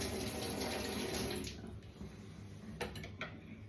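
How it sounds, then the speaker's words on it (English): Water runs from a faucet as a spoon is rinsed, a steady close hiss for about a second and a half before the flow eases, leaving quieter splashing and a few small clinks toward the end. "Let me just rinse this spoon"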